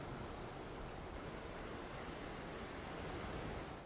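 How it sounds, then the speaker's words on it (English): Ocean waves churn and crash far below a large cruise ship at night, a dense, steady roar of surf mixed with wind buffeting the microphone, continuous throughout with no speech. "Looking down and seeing the waves crashing below your feet was pretty insane."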